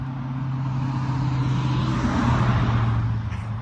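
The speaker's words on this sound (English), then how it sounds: "Here comes the car." A car drives past on a nearby road beside a camping van, a steady low engine and tyre rumble that swells slightly as it passes and holds throughout, with no talking.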